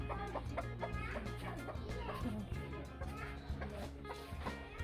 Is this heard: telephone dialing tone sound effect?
no